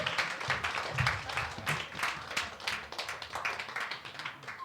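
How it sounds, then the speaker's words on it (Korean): A church congregation stands and claps in loose, uneven rhythm, scattered hand claps and taps at moderate distance without voices over them. "일어서 박수"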